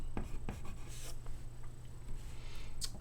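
Graphite pencil scratching and shading on paper, with short soft strokes and rubs near and quiet over a low steady hum, no voices.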